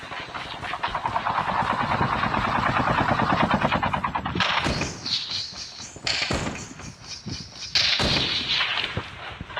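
Gunfire in a parachute-drop shooter video game: dense, continuous bursts of shots with heavy booming blasts, loud and close, easing into scattered single shots and short volleys toward the end.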